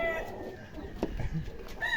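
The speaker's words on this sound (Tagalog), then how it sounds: "Dito yung mga magagandang manok" Chickens cluck and a rooster calls faintly amid outdoor background noise, no talking over them.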